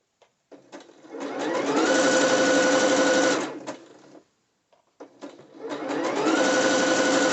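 A sewing machine sews elastic onto dancewear in two close, loud bursts, each winding up to a fast steady whir then stopping, separated by a brief quiet pause, with no speech.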